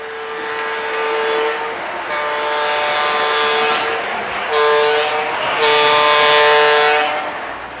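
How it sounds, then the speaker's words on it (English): A Lionel ZW-powered model train locomotive whistle with a newly replaced diode blows loud and steady in four long harmonic blasts, each separated by brief gaps, with the final blast strongest, and no talking. "that new diode made a tremendous difference in the performance on the whistle on that locomotive"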